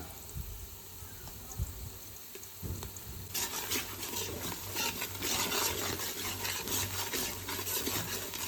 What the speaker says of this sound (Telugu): అవన్నీ ఎర్ర కలర్లోకి మారేదాకా మనం వేయించుకుంటా ఉండాలా.